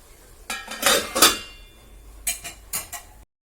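A pot of pineapple pickle is stirred and covered, producing a few close metallic clanks and scrapes of utensil and lid against the pot, separated by quiet pauses.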